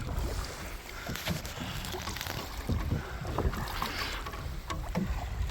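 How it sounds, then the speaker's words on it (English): Two-person canoe out on a lake in strong wind, with steady wind buffeting and broadband water rushing throughout, plus low thumps and splashes from paddling at an irregular rhythm, close and fairly loud. "Yeah, we're in a two-person canoe."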